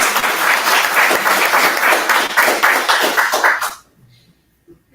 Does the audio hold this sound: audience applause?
yes